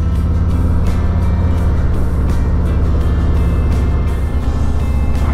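A motorbike rides along a road in Zion National Park, its engine droning loud and steady throughout, mixed with rushing wind and road noise.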